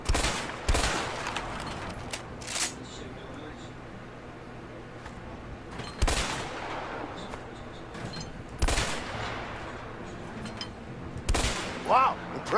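Gunshots ring out at thrown bottles in the video game A Way Out, several sharp, loud single cracks spaced a few seconds apart over a low ambient hum, with people talking between shots.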